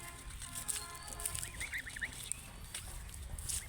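Farm ducks give a short run of nasal quacks and honks partway through, fairly faint against a hissy outdoor background with scattered high chirps.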